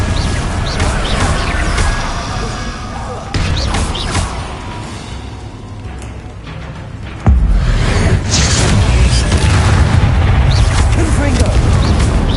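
Confringo fire blasts boom and crash repeatedly in Hogwarts Legacy amid continuous loud combat noise, with whooshes and a heavy impact partway through.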